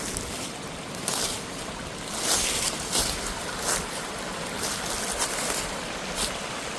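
Steady rushing water from a small creek flowing through a wooded mountain glen below a waterfall, a constant broadband wash with occasional louder splashes and gusts, no voices.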